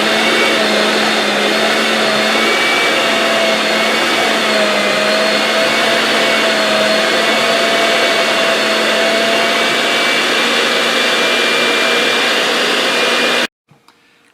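An electric hand mixer beats cream cheese for a pumpkin cheesecake dip, whirring loudly and steadily without a break for about thirteen seconds before it cuts off abruptly.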